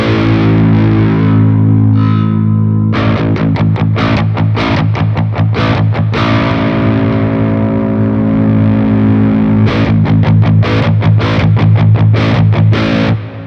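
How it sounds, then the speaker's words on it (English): An electric guitar played through the Neural DSP Archetype Rabea plugin with tight distortion, loud and dense, sustained chords broken by fast chugging palm-muted stabs and sharp rhythmic cuts. "I do like a really tight distortion"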